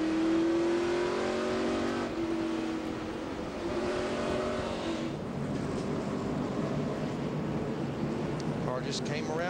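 Stock cars racing in a 2006 NASCAR Busch Series event, the Circuit City 250, a dense roar of engines revving and droning through the whole stretch, with commentators talking over the racket.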